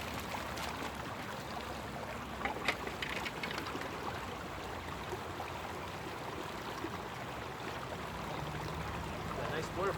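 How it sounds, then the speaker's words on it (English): Water rushes steadily through a gold mining sluice in Colorado, a continuous close broadband wash with occasional clinks and knocks of equipment. "Got a nice water flow."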